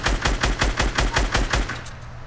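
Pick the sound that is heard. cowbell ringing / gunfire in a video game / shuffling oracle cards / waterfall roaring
gunfire in a video game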